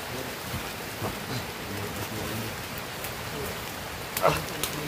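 Steady rain falling outdoors, a soft continuous patter with a few louder knocks near the end and faint background sounds.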